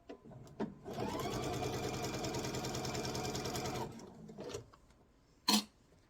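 A domestic sewing machine stitches a seam on a quilt sampler block in one steady, close run of about three seconds, with a few short handling knocks before and after and a brief sharp rustle near the end.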